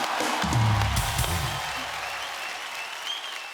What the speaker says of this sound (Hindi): सो एक बार जोरदार तालियां हो जाए आप सबके लिए